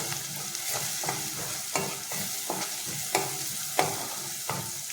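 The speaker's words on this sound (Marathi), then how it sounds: "आणि आपल्याला व्यवस्थित असं तेलावरती परतून घ्यायचं आहे" Spice masala being stirred and sautéed in oil, with a soft sizzle under repeated scraping strokes of a spoon against the pan at a steady rhythm, close and moderately quiet.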